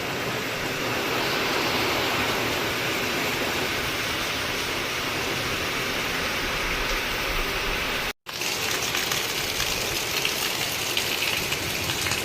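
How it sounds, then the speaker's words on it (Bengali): Heavy rain pouring steadily in Kerala, a dense continuous roar of rainfall at even loudness, broken only by a brief cut near the end before the downpour resumes just as strong. "অনেক জোরে জোরে বৃষ্টি হচ্ছে, অনেক"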